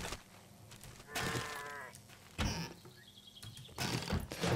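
A goat in the zombie survival game 7 Days to Die gives a few short bleats with wavering tone, spaced apart over a steady background hum, with no talk.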